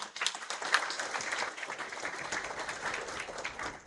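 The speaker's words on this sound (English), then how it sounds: "We'll give one final round of applause to all spellers." Applause from an audience for the spellers at a spelling bee final, a sustained patter of clapping that runs the whole stretch at moderate volume.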